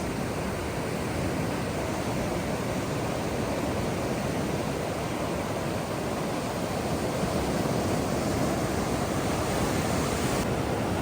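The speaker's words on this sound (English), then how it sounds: "It's always interesting how some waves come way up and others don't." Ocean waves roll in on Rialto Beach on the Olympic Peninsula, heard as a loud, continuous wash of surf that stays full and even throughout.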